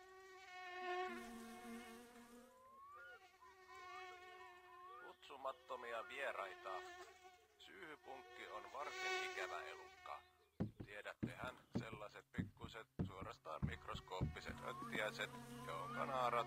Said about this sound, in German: ist dort eine Wespe, die uns tötet.